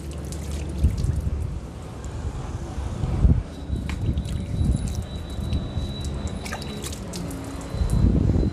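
Water sprayed and dribbled onto paper laid out for a soybean seed germination test, close and fairly quiet, with trickling and splashing bursts coming and going, plus a faint high tone in the background.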